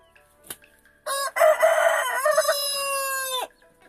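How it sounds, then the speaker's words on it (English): A farm rooster gives one loud, close crow lasting about two and a half seconds, rising and then holding before it cuts off. A faint click comes just before it, with no talking. "This guy's a rooster."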